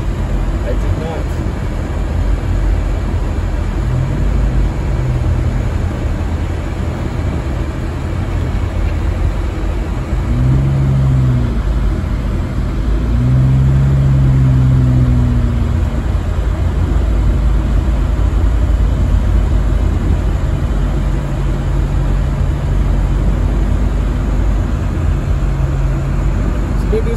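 A car drives through a heavy snowstorm in Big Bear, California; a steady, loud low road and engine rumble fills the cabin while people talk over it.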